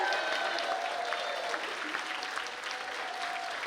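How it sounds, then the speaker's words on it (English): Applause for Hall of Famer Andre Reed from a crowd at a Pro Football Hall of Fame gathering, steady dense clapping throughout, loud and sustained with a few scattered louder claps. "Let's give a round of applause"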